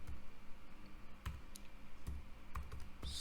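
Someone types on a computer keyboard, a quiet, irregular run of soft clicks and taps with short pauses between keystrokes, no voices.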